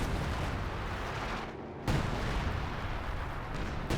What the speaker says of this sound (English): artillery's coming in